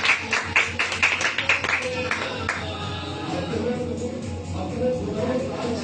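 A church congregation at a Sunday service claps to welcome the preacher: brisk, rhythmic applause from a crowd that fades out as a voice carries on over a low hum.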